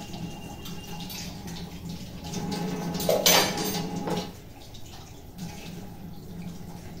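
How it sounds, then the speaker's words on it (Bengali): Dishes are washed under running water, with cutlery and pots clinking and a swell of splashing midway, faint and fairly close, no talk. "নিয়ে বাসন ধুয়ে নিচ্ছে।"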